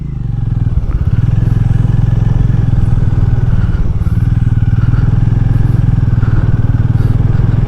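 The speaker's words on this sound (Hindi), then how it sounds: "हीरो मैवरिक 440 को राइड करते हुए मेरे को काफ़ी टाइम हो गया है" A Hero Mavrick 440 motorcycle is ridden at steady speed, its engine thrumming loud and close with a constant low rumble and wind noise, and no talk over it.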